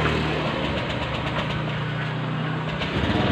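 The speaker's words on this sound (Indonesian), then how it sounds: "Dan sekarang kita nyalain pakai starternya, bagus apa tidak?" A bored-up Honda Beat scooter engine with an oversize Vario carburetor piston idles steadily after an electric start, a continuous low mechanical hum with a faint rhythmic knock, close and unbroken.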